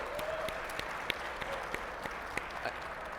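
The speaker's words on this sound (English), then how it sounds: "clap for DeQuan" An audience at a Commander panel during a Magic 30 event applauds steadily, a dense wash of clapping with a few sharper claps standing out, moderately distant and even in level throughout.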